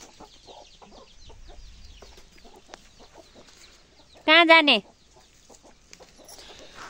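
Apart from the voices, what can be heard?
chickens clucking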